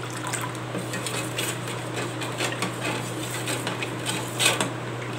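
A spoon stirs pani puri water in a vessel, with soft repeated scraping and clinking against the sides, liquid sloshing, and one sharper clink near the end, all over a faint steady hum.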